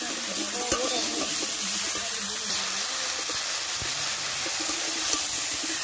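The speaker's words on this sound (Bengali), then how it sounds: "হলুদ দিয়ে কিছুক্ষণ ভেজে নেব।" Kakra (spiny gourd) pieces fry with turmeric in a pan, giving a steady close sizzle and hiss with occasional stirring clicks throughout.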